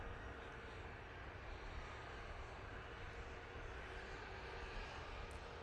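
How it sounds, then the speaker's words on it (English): An EasyJet Airbus A320neo at Manchester Airport gives a faint, distant, steady rumble of jet engines with no talk over it. "here is the Amsterdam flight. Using EasyJet's A320 Neo"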